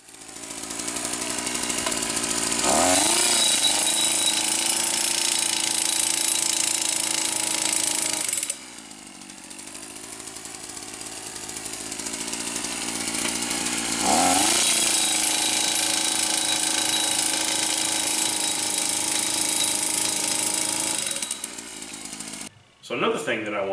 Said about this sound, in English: Also a 2-stroke powered post pounder or pile driver.